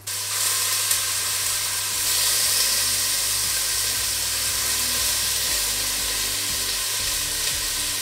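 Beef bourguignon pieces searing in a very hot cast-iron cocotte, a steady close sizzle and frying hiss running throughout with no voices.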